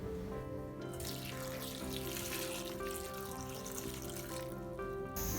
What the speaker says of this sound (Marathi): चला तर मग आता भाज्या स्वच्छ धुवून घेऊया